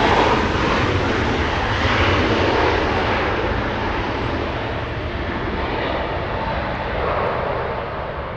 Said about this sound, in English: That's Southwest Flight 1262 inbound from San Francisco